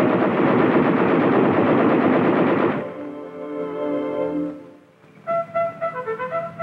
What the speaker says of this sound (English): 105mm cannon and two machine guns. All weapons can be fired from within.